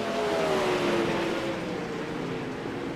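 Race cars on an outlaw racing league oval accelerate back to green after a caution, engines droning loudly and steadily with rising pitch as the pack pulls away.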